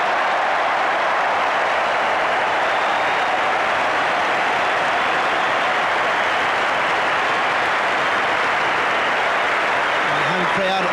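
Home crowd at the SCG applauding and roaring as Steve Waugh reaches his 24th Test century, a dense, steady wash of large-stadium cheering and clapping sustained throughout, with a faint voice near the end.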